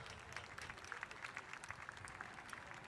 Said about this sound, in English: So a round of applause for our two umpires.